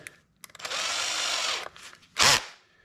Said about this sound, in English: this is basically a spindle that goes into your drill